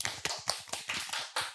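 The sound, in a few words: applause for the podcast guest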